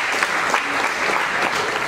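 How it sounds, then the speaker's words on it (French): An audience applauds at an orientation day event, a dense, even wash of clapping from many hands that runs steadily throughout. "Applaudissez pour le PDG."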